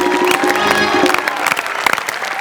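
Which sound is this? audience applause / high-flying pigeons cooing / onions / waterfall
audience applause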